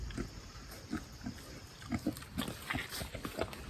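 Several farm pigs grunt and snuffle close by in short, irregular bursts, a busy cluster of low oinks with no one talking.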